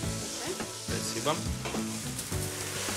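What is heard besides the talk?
frying flour with anchovies in a pan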